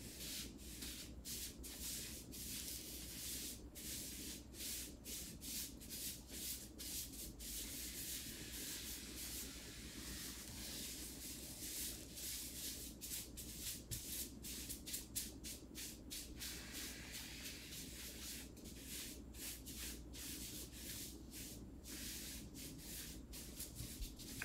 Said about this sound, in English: just kind of keep rubbing that around